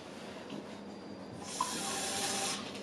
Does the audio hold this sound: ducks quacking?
no